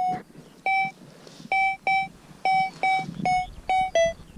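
A metal detector sounds a series of about ten short, clear, evenly spaced electronic beeps with brief gaps between them while hunting for coins outdoors; the beeps are loud and close, and no one speaks.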